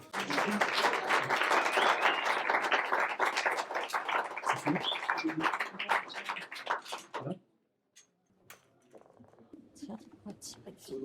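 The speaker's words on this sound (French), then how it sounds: "on peut refaire une petite salle d'applaudissements" Warm round of conference audience applause, thick and close for about seven seconds before cutting off sharply; afterward a few scattered sounds and a voice begin in a quieter room.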